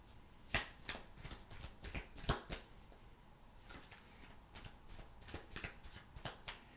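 Tarot cards being shuffled by hand: a quiet, close run of irregular crisp riffling snaps and flicks, with soft card rustling between them and no voices.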